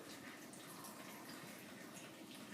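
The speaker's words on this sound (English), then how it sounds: "And so now I just fill it up with water." Water pours steadily into a container, a continuous soft rushing and splashing with no talking.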